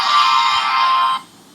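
A Poco F8 Pro phone speaker blares a ringtone at high volume for about a second, a bright sustained tone that cuts off abruptly, leaving a faint quieter tail.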